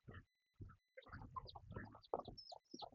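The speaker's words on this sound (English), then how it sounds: "Oh, a chicken and chicklets" A hen with her chicks on a cattle farm, clucking in short, close bursts separated by brief pauses, with a few higher chirps near the end.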